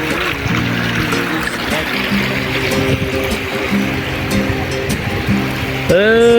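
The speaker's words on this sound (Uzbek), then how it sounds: "Mana ariq." Water flows along an irrigation ditch outdoors in hilly country, a continuous rushing gurgle heard close, with voices and other background sounds mixed in over it.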